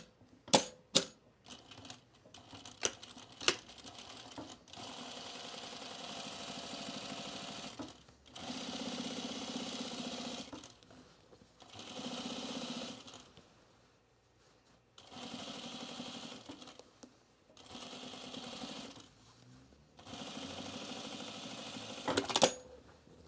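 A sewing machine stitches a jeans seam in several separate runs of a few seconds each, pausing between them, with sharp clicks and taps at the start and end.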